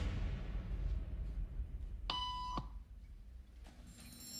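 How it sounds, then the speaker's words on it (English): A single electronic beep tone sounds in a social conformity experiment, a steady harmonic tone lasting about half a second over a room-noise background, followed later by a fainter second tone. "Beep means stand up."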